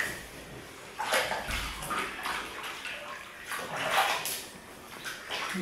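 A chicken being rinsed in a bucket of warm, clear water while being washed for a poultry show, giving soft, continuous sloshing and splashing that swells and ebbs, fairly close, with no talking.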